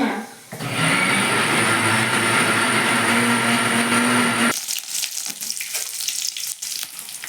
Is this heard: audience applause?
no